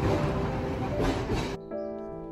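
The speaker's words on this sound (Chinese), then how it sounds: "还蛮喜欢这边这种看起来特别复古的电车" A retro-style streetcar in Hiroshima rolls past, a loud steady rumble of wheels on rail that cuts off abruptly partway through, leaving quieter street tones behind.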